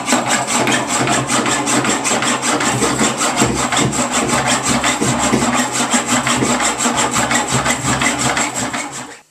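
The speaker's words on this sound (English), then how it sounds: "they just weren't coming off with a hacksaw" A hacksaw cuts at welded steel stays on a trailer, fast, rhythmic back-and-forth rasping strokes, loud and close, continuing steadily before trailing off.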